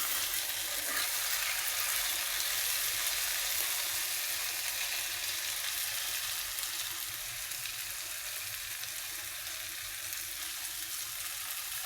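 Okra sizzles steadily in a covered pan, a dense, even frying hiss that holds at the same level throughout with no voices.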